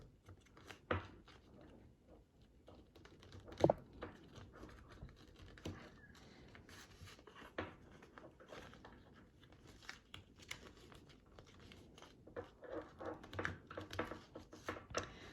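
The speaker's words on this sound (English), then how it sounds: "now we're gonna fold the wings over and start here and fold it and just fold it over." Paper being folded by hand into an origami jet, quiet scattered creases, taps and crinkles in an irregular rhythm, close and faint.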